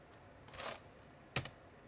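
A few keystrokes sound on a computer keyboard while a console command is typed in an Unreal Engine 4 editor. There are two soft, brief clusters of clicks that are fairly quiet and close, and no voice.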